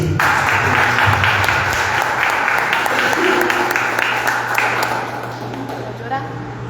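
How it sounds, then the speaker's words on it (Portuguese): A church congregation applauding at a worship service, a dense wash of clapping from many hands that swells briefly then tapers off, with a sustained hum beneath and voices mixed in. "Dá um aplauso para Cristo."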